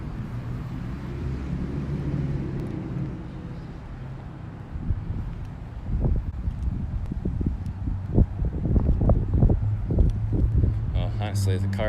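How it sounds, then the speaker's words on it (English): Gusty wind on a city street buffets the microphone with low rumbling and uneven thumps, growing stronger and choppier in the second half, with rustling and brief clatter. "It's getting a little windy."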